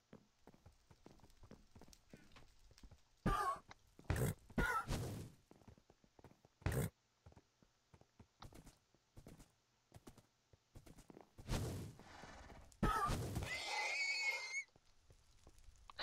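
Horse in a Minecraft-style multiplayer game, with scattered hoof clops, thuds and a whinny-like burst, close and intermittent between quieter stretches.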